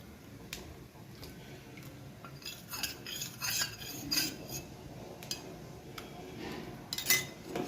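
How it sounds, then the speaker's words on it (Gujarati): A spoon stirs custard powder into hot milk in a pan. Soft scraping swirls mix with scattered light metallic clinks against the pan, close and fairly quiet. "હવે એને આપણે સતત હલાવતા રહેવાનું છે નકર કસ્ટર્ડ પાવડર નીચે બેસી જાય"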